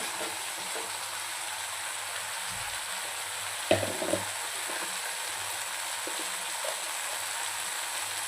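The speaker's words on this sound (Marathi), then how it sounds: "छान मसाला आपल्याला यामध्ये परतून घ्यायचा आहे तेलामध्ये, पूर्णपणे तेल सोडेपर्यंत." Masala paste sizzles steadily in oil for a drumstick curry, a constant close frying hiss, with a brief stir and clatter midway and a few soft taps.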